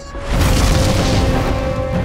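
A deep, loud explosion booms in a disaster film about a planetary impact, rising sharply into a sustained roaring rumble that stays dense and heavy for the full two seconds.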